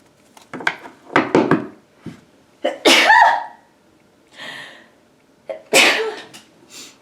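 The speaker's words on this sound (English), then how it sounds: "I always seem to sneeze in threes." Several loud sneezes close by, separated by short pauses, with sharp breaths and a cough-like burst between them.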